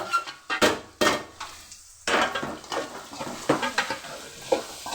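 Carrots, beans and capsicum stirred in a frying pan with a spatula, repeated loud scraping strokes against the metal over a soft sizzle, close up and in uneven rhythm, with no talking.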